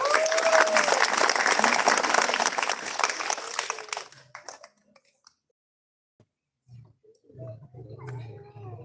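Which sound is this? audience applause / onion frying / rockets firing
audience applause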